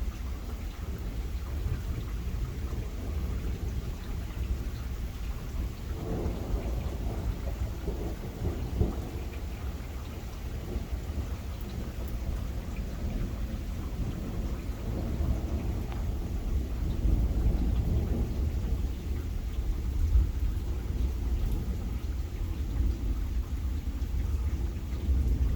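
Nighttime thunderstorm with heavy rain, a steady roar of rainfall on surfaces with low rumbles of thunder rising and falling throughout, no talking.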